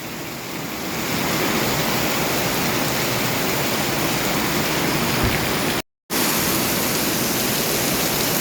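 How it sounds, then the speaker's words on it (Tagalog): Heavy rain pours down in a steady, dense roar, close and loud without a break except for a brief dropout to silence near the end; the downpour is strong enough to send floodwater toward a house gate. "Ang lakas ng ulan."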